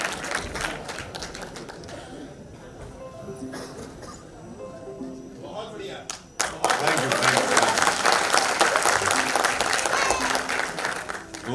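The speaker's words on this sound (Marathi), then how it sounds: "जोरदार टाळ्या तिन्ही मंडळींसाठी." An audience in a hall at a Veer Savarkar memorial celebration claps for the support team, scattered hand claps under talk at first, then a sudden loud surge of full, sustained applause from the crowd.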